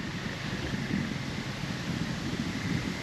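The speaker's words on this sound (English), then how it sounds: "Pretty windy right now, but I think this wind will settle down." Steady wind rushing across the microphone outdoors in Manitoba's Duck Mountains during a spring bear hunt, a constant low roar with no gusts breaking through and no voices.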